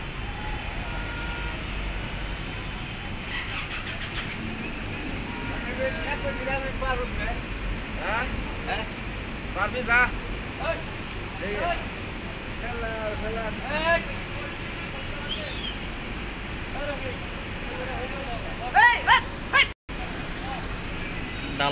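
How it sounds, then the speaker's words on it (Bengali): A ferry's loading ramp is slowly lowered at a Bangladeshi ferry crossing while trucks and cars wait to drive off. A steady engine and traffic rumble runs throughout under crowd babble, with scattered beeps and clanks. "ফেরির ডালাটি কীভাবে খোলা হচ্ছে, খুব আস্তে আস্তে খুলতেছে।"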